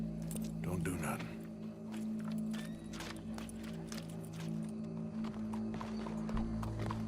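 Horse hooves clip-clop steadily at close range in Red Dead Redemption 2 gameplay, with a low droning background and occasional voices over the hoofbeats.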